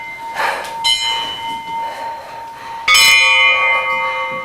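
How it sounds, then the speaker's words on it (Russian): Bells at the Irkutsk local history museum ring out in two distinct strikes, each a bright metallic clang that hums and slowly decays, the second louder and fuller than the first. "это такие колокола в Иркутске"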